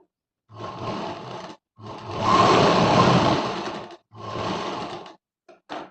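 Sewing machine stitching the folded hem of a Punjabi dress pant: steady mechanical whirring runs in three bursts, a longer middle run between two shorter ones, then a brief clicking at the end.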